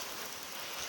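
Rain falls steadily outside, a brief, soft and even hiss of drops heard from indoors.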